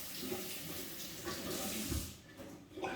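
Tap water runs into a kitchen sink while a large capsicum is rinsed under it, a steady close splashing flow that thins out near the end.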